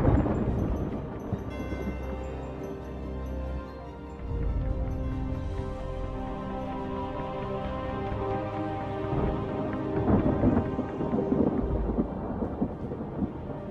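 A thunderstorm with deep rolling thunder over steady rain, continuous and loud for the whole stretch, swelling again near the end, with a sustained tonal bed underneath.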